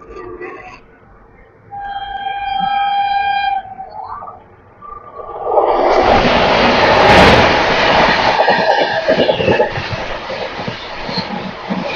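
A MEMU express train pulls out of Tindivanam railway station: a horn-like tonal call first, then a swelling rumble and clatter of wheels on rails as the train gets moving, with voices in between.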